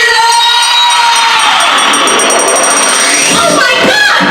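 A self-made explosion sound effect for a house beat swells and sweeps loudly as a dense, roaring burst, then breaks into a scattered fizzling tail, heard alone.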